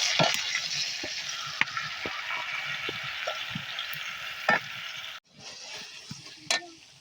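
Spices sautéing with onions for duck curry, a steady close sizzle with scattered taps and scrapes of stirring, briefly cutting out before resuming with another clack.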